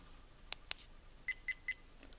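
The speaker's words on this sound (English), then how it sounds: "3 beeps and it's turned off." A Hawkeye Firefly Q6 4K FPV action camera beeps as it powers off: two faint button clicks, then three short evenly spaced electronic beeps, quiet and close.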